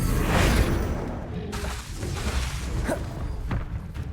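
A Confringo blasting spell cast in Hogwarts Legacy, with a loud rumbling whoosh that swells and then rolls into dense, thudding impact noise lasting several seconds.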